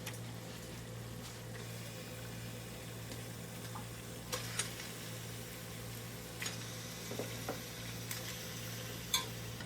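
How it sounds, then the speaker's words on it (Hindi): Beef pieces on the bone frying with ginger-garlic paste in a pan over high flame, a quiet steady sizzle with occasional stirring scrapes and small pops above a constant low hum, no talking. "गोश्त को अच्छी तरह से अदरक लहसुन के साथ फ्राई करेंगे"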